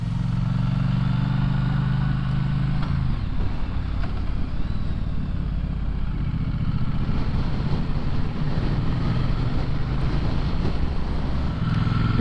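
Triumph Bonneville T100 motorcycle being ridden through Malibu, a steady low engine drone under constant wind buffeting, with no pauses and no talk.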